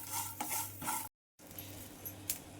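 Grated coconut and curry leaves are dry-roasted in a pan, with faint, repeated scraping stirs and a light rustle, broken by a brief silent gap.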